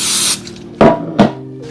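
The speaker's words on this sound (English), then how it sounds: "Now I'm gonna go ahead and spray my loaf pan or my bread pan." A short hissing burst of cooking spray onto a loaf pan, followed by two quick clunks of a can or pan being set down nearby.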